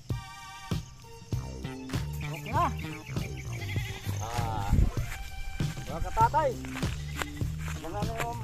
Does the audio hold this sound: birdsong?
no